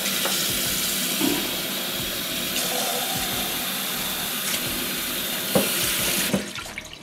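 Water poured from a measuring cup into Ghirardelli brownie mix in a home kitchen, a steady running splash that lasts several seconds before ending with a few soft knocks.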